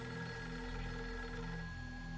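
A telephone rings in the horror video game Fatal Frame 3, a steady electronic ringing tone held continuously, moderately loud with no talk over it.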